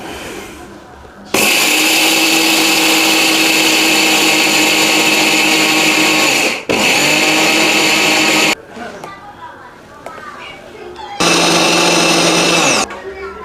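A Vision 850W heavy-duty blender grinding rice into powder, roaring loudly in several long bursts separated by short pauses and switch-offs, with quieter gaps between runs.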